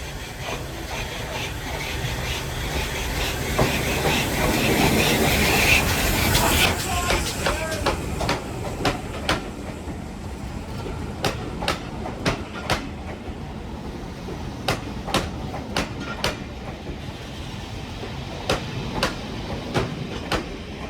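GWR large prairie steam locomotive 5199 passes on the Battlefield Line heritage railway, a swelling rumble and hiss giving way to a steady run of rhythmic wheel clicks as carriages roll by nearby.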